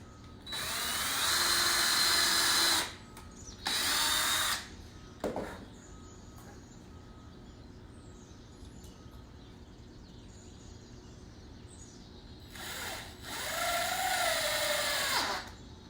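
A power drill drives screws into a wooden DIY corner shelf in separate bursts, two close whirring runs, a gap with a brief clack and quiet room noise, then a last longer run that winds down.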